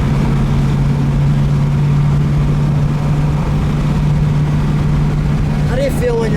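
A 1968½ Ford Mustang GT 428 Cobra Jet with a 4-speed running on the road, a steady low engine drone with a constant hum, heard from inside the car with road noise and no clear talk.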